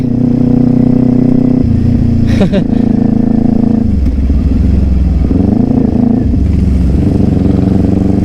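A Kawasaki Ninja 400 motorcycle engine, still cold, runs loud and close, revving up hard in several surges and dropping back to a rough idle between them.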